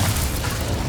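An Incendio fire spell blast in Hogwarts Legacy, a short, loud, dense whoosh with a deep rumbling body that fills the whole moment and stays sustained rather than fading.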